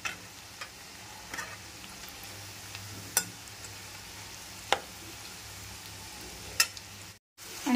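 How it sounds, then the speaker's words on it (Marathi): Bhaji fritters frying in oil in a pan, a soft steady crackle with a few sharp isolated ticks and pops, fairly quiet, with no voices. "भजी छान आपली फ्राय होत आलेली आहेत"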